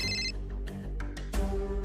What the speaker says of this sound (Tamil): ஐயோ, மேடம் ஃபோன் பண்றாங்க.